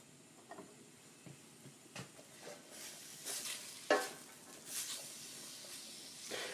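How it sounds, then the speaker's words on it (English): Vegetables sautéing in olive oil, stirred with a spoon in a pan: a soft background sizzle broken by several scraping, rustling stir strokes, one sharper clatter near the middle, close and without talking. "Let's give this a little stir"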